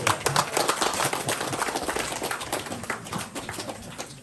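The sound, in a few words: audience clapping for Tuan Jumain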